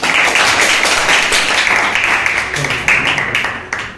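An audience at an army academy award ceremony claps steadily for a prize winner, a dense, sustained wash of applause that runs the whole time and thins slightly toward the end, with a voice faintly underneath.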